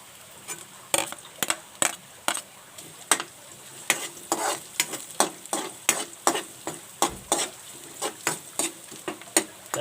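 Garlic sautés in a frying pan for a snail dish, a steady close sizzle broken by a regular run of sharp stirring scrapes, about two each second, with no talking.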